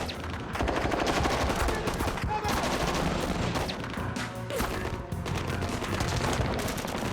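Rapid bursts of gunfire in a firefight near an airstrip, dense overlapping automatic rifle and machine-gun fire, loud and continuous with sharp individual shots throughout.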